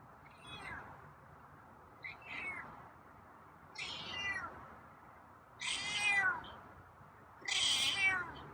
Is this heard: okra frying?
no